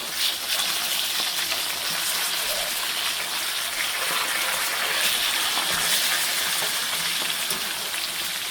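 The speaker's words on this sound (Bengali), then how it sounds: "মাছটা ভাজা হয়ে আসছে" Pieces of hilsa fish frying crisp in a hot pan give off a steady, loud sizzle that holds evenly from start to finish.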